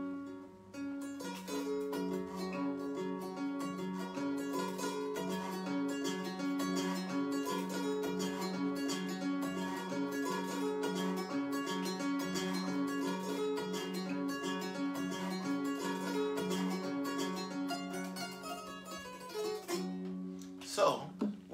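A kora is plucked with four fingers, its bright, ringing notes flowing in a steady, dense melodic pattern for about twenty seconds before a brief pause and a final few plucks.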